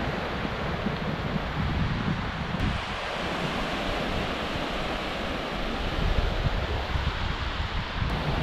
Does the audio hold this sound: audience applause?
no